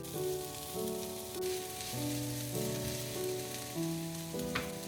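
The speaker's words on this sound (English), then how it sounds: "Dip in the sliced onions and toss" Sliced onions toss and fry in oil in a pan, a soft, steady sizzle running beneath a louder melodic music track.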